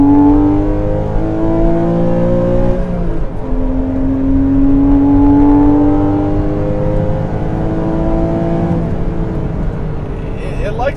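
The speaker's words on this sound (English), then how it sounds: "go down to second gear. You gotta wind this thing out" A Porsche 981 Cayman with the base 2.7-liter engine pulling hard in second gear, its rising engine note climbing steadily and loud from inside the car, with a brief dip near three seconds before revving on toward high RPM.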